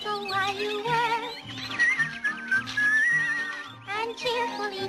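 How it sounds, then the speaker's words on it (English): A person whistles a bouncy, melodic tune while tidying up after an experiment, the notes rising and falling over a steady rhythmic low backing that pulses in short repeated beats. "Just whistle while you work"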